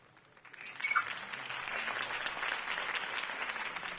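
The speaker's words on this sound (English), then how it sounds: "could have heard that applause" A crowd applauds in a Batman video game, the clapping swelling quickly and holding steady and dense for several seconds.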